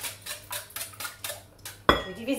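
A spoon or whisk mixes cake batter with vanilla sugar in a bowl, making rhythmic scraping and clinking strokes about four per second, close up. A sharper utensil knock against the bowl ends the sequence.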